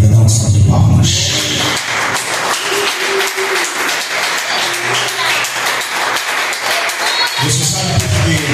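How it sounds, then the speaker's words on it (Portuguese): Church congregation applauding during a Baptist service, a loud burst at the start easing into steady mixed clapping with some thuds and crowd noise before swelling again near the end. "Dá uma salva de palmas."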